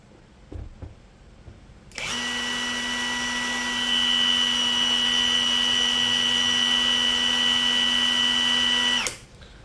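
A Tekiro cordless brushless impact driver spins up at its second speed setting, about 1790 RPM, giving a steady, loud, high-pitched whine that holds for roughly seven seconds and then cuts off, with a few faint knocks just before it starts.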